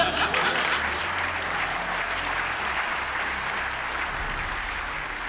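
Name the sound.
audience applause at film awards ceremony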